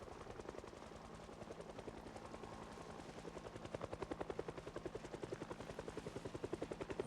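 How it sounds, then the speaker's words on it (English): A helicopter passes overhead in the Project Zomboid video game, its steady rapid rotor chop growing gradually louder and nearer over several seconds, with no voices. "I've been checking the radio every day for a helicopter, except for today, and it is over our head."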